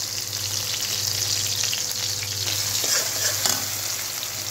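Chickpeas fry in desi ghee in an iron kadhai, giving a steady, close, bright hiss with a few soft stirring scrapes and no talking.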